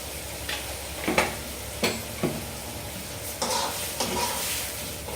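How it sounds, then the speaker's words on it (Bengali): Kabuli chana being sautéed in a pan with turmeric and salt: a steady sizzle with repeated stirring scrapes and knocks of a spatula against the pan, close and fairly loud. "এটা এখন আমি সুন্দর করে কষিয়ে নেব"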